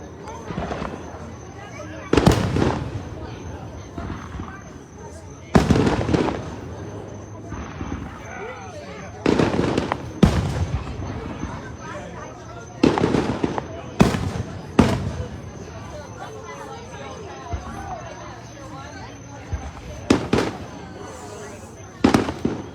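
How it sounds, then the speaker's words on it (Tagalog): New Year fireworks burst in sharp, loud explosions spaced several seconds apart, each with a crackling tail, while a crowd murmurs and people talk in between. "Ang ganda ng fireworks po."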